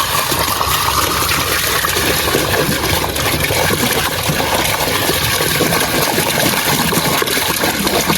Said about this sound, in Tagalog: So yan, lalagyan natin ng tubig to.